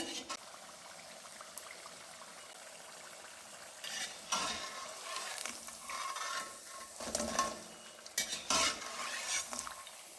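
Quiet, steady crackling and sizzling of vegetable pakoda deep-frying in hot oil, with occasional stirring scrapes growing louder toward the end.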